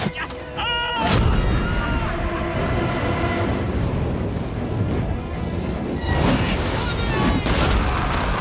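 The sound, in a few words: catapult firing flaming incendiary darts in Total War: Rome II video game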